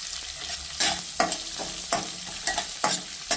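Thinly sliced onion and garlic fry in a pan, a soft sizzle beneath repeated sharp scraping stirs that come roughly every half second, close up and without speech.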